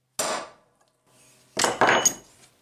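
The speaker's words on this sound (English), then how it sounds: "now I'm going to flip it around and file this down some" A metal file rasps across a radial arm saw anti-kickback pawl, one short stroke followed by two longer, harsher strokes with a brief pause between.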